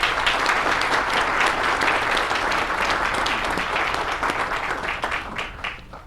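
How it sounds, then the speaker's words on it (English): Sustained, dense applause from a large crowd at a college groundbreaking ceremony, loud and steady throughout before tapering slightly at the end. "Let's give them a big round of applause."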